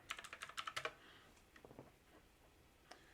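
Computer keyboard typing, a quick burst of close key clicks followed by a few softer scattered taps, faint and with no talk.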